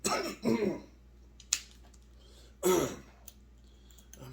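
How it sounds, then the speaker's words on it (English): A man coughs and clears his throat in several short, rough bursts spaced unevenly apart, close by in a quiet room, with faint background hum between them. "I'm still coughing."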